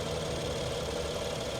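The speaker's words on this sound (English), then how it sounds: "She sounds like a new BMW engine too." BMW twin turbo engine with about 40,000 miles idling steadily, a faint, even mechanical hum with slight ticking texture and no voices.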